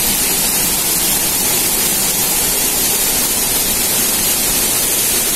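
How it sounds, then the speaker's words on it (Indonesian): Dedari waterfall in Bangli, Bali pours with a loud, steady roar of rushing water close by, broadband and unbroken throughout, with no voices. "air terjun yang ada di Pulau Bali"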